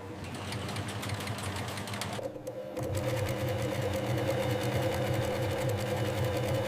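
An industrial sewing machine stitches seams on a sheep wool winter coat in a factory, a steady close mechanical whir with a brief pause before it resumes louder.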